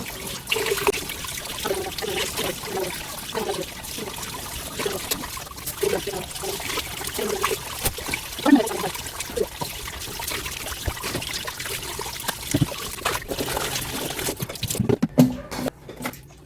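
Food is washed under running water from a tap, a continuous trickle and splash with occasional knocks and handling noises, ending in a brief burst of louder splashing.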